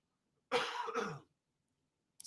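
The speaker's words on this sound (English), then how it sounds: "Sorry to keep coughing," Two quick, harsh coughs close to the microphone, followed by silence and a brief faint sound at the very end.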